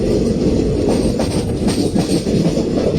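The Tirupati Express train rumbles loudly along the tracks at close range, passing Surat railway station in the evening, with steady rhythmic clatter of wheels over rail joints.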